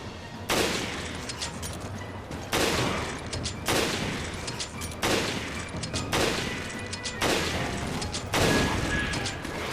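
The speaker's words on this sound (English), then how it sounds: "I use my machine gun to kill them." Machine gun fire in the Resident Evil Revelations video game comes in loud, close, repeated bursts about every second or two, each a dense roar of rapid shots over a continuous low rumble.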